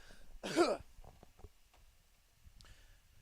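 A sports commentator at a live 21st-century townball game gives a single sharp cough, close and brief, followed by faint small noises.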